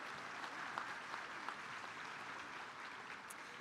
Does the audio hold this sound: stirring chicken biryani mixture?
no